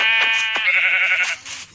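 A single drawn-out sheep bleat in Minecraft, loud and close, with a wavering electronic tone.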